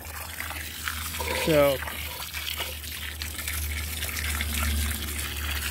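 Water gushing and trickling as it soaks buried kitchen scraps and cardboard in a garden, a steady running flow with a low hum underneath and someone speaking briefly over it.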